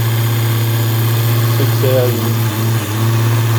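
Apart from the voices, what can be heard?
slot car motor running on test rig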